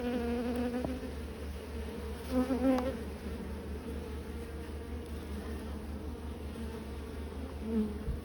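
Honeybees buzz around a beehive in a dense, continuous drone, close and steady, with a few louder passes as individual bees fly near.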